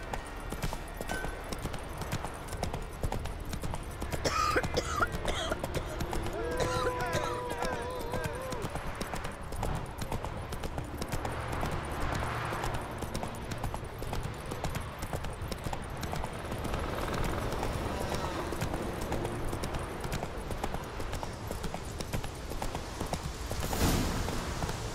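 Horse hooves gallop at a steady clip-clop rhythm in The Witcher 3: Wild Hunt, loud and continuous under game music and effects, with a brief whinny possible near the end.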